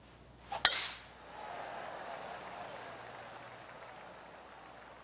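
A golf ball is struck on a par-5 hole at the Farmers Insurance Open, giving one sharp, crisp click near the start, followed by a burst of crowd applause that fades into a steady murmur of outdoor ambience.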